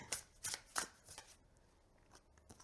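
Tarot cards riffled in a few quick, crisp bursts, then softer rustling and a final snap, close by with no talking.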